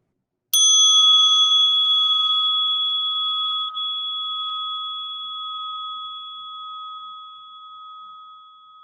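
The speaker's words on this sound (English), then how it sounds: "I have this Tibetan bell that I brought all the way from Tibet." A single strike of a Tibetan bell from Tibet rings out clear and close, its bright tone ringing and slowly fading over several seconds in near silence.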